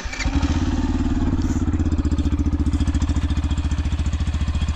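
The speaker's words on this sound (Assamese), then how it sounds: "এতিয়া এক্সজস্টৰ সাউন্ডটো আপোনালোকক অলপমান শুনাই দিছো" Yamaha FZ-S V4 motorcycle idling close up, its exhaust giving a steady, even low thump with a slight clatter, loud and alone throughout.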